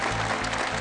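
A crowd at a speech gives a brief burst of clapping, a dense patter of many hands close by that lasts only a moment.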